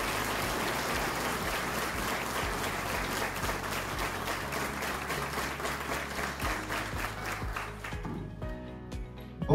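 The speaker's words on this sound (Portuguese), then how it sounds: "Eu quero que ele seja recebido com aquela salva de palmas que vocês estão acostumados a receber nos palestrantes aqui." Audience at a business breakfast event of a commercial association gives sustained, dense applause welcoming a speaker, steady and loud for about eight seconds before quickly dying away.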